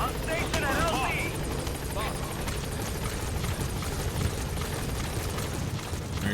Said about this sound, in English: Support helicopter I'm assuming has arrived.